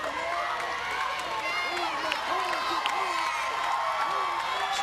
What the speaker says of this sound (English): This crowd has gotten so loud.